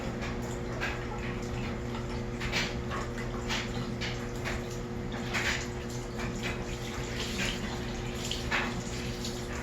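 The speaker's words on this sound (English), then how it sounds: "All I'll do is just rinse the rag and give it another wipe down" Water runs steadily from a faucet while a rag is rinsed under it, a quiet continuous wash with faint scattered splashes and clicks over a low background hum.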